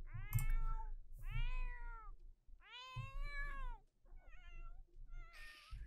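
A cat in The Sims 4 video game meows several times in a row, drawn-out tonal cries with pauses between them, clear and close with no talking over it.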